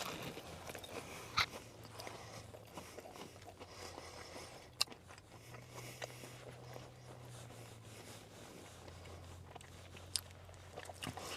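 Someone slowly chews a Taco Bell toasted cheddar chalupa, giving quiet, close, wet chewing with a few sharper crunches and bites spread over several seconds. No talking.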